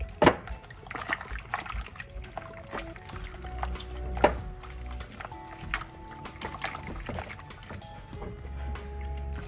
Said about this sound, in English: I ran some lukewarm water over top of them